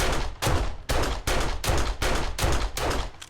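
Bursts of gunfire at a bear in a survival video game sound as about seven loud, evenly spaced shots in quick succession, each a sharp crack with a short tail.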